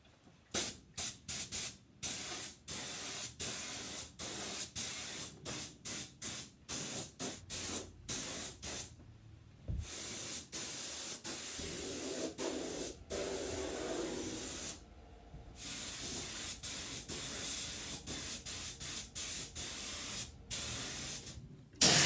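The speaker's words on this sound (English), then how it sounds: "So I've now finished spraying the cold gel right through all the frame of the bus" Cold gel rust treatment hisses from a spray gun onto a bus frame after sandblasting, in long loud bursts broken by short and longer gaps as the trigger is pulled and released.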